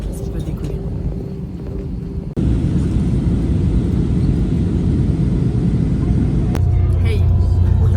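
Jet airliner on the ground before takeoff to Sicily, cabin engine hum steady and low, stepping up louder after a couple of seconds and continuing as a broad rumble, with a brief shift near the end.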